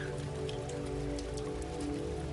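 Raindrops patter steadily on a surface close by, a dense, even rain sound with a low hum beneath it throughout.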